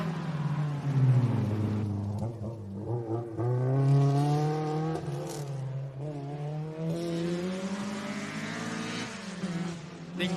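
A rally car at high revs on stage SS9 Brooyar Loop of Rally Queensland: its engine screams and climbs repeatedly through the gears as it passes fairly close, loud throughout.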